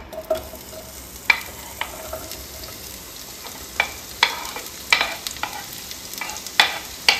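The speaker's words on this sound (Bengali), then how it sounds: "এবার এর মধ্যে চলে যাবে পেঁয়াজ কুচিগুলো।" Chopped onions and chilli fry in a little white oil with a steady low sizzle, while sharp clicks and scrapes of stirring come through again and again, close and clear.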